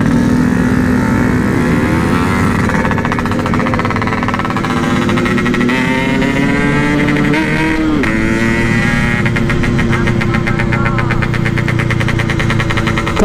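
A Yamaha RX King motorcycle engine runs loud and close during a night ride, its throbbing two-stroke note rising and falling with a brief dip partway through, then a fast buzzing rattle toward the end.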